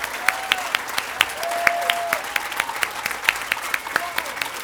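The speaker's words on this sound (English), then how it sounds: "Everybody, give them a round of applause." An outdoor crowd at a Scottsdale Veterans Day commemoration claps steadily for Vietnam veterans, dense continuous applause with a few louder individual claps and faint whistles mixed in.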